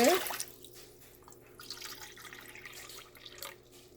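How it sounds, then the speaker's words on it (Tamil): Water pours and splashes into a pot for rava kesari, loudest at the very start, then trickles and drips more softly. "நாலு கப் தண்ணி விடுறேன்"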